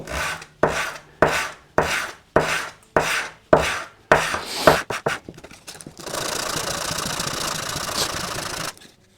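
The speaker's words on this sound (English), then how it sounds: "Maybe a fresh piece of sandpaper." Sandpaper rubbing along the edge of a wooden guitar backplate in about eight loud, rhythmic strokes, then a faster run of short scrapes and a continuous, steadier rasp to finish.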